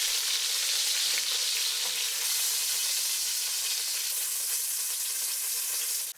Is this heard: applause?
no